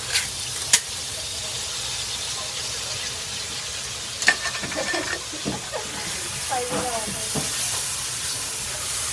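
A pan of fish frying lightly for a Japanese tuna dish, with a low steady sizzle and hiss running throughout, plus a few sharp clinks and utensil scrapes in the middle; no speech is heard.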